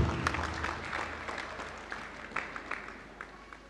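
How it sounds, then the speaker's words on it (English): Faint scattered hand clapping rises from a congregation at a prophetic church service, loose and uneven claps that gradually thin out. "Clap your hands for her"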